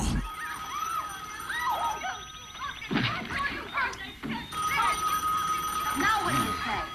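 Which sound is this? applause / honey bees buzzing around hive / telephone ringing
telephone ringing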